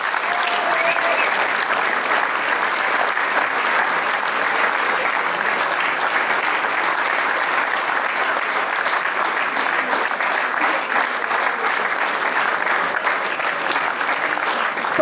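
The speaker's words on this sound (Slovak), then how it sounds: "s potleskom privítajte bývalých členov súboru, pána Malíka a pani Olgu Lukáčovú." An audience in the Snina cinema hall applauds at a 65th-anniversary performance of the Vihorlat folk ensemble: dense, steady clapping that stays loud and even throughout.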